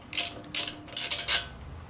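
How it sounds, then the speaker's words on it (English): Close ratchet wrench clicking in four short rapid bursts while the two brake caliper bolts come off the front of a Yamaha Raider motorcycle, with quiet pauses between bursts and no talk. "first we're going to take off our brake caliper. There's 2 bolts here. Remove those."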